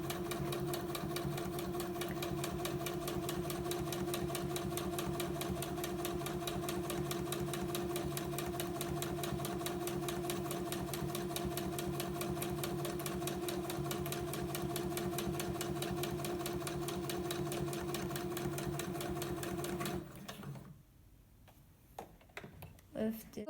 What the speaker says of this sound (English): On this line, you can sew all the way to about 1/4 of an inch